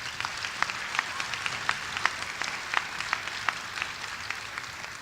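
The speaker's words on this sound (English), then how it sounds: "Can you all please join me in one more round of applause for our Cherokee Chamber Strings" Enthusiastic applause from an audience at a high school honor society induction ceremony, honoring a chamber string orchestra; steady dense clapping with scattered sharper claps, continuous for the whole stretch.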